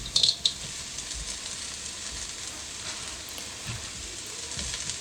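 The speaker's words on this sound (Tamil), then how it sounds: "ஃப்ரோசன் க்ரீன் பீன்ஸ் அதையும் போட்டு வதக்கிட்டு" Frozen green beans and carrots sautéing in a pan give a steady, close sizzle throughout, with a couple of sharp clinks at the start.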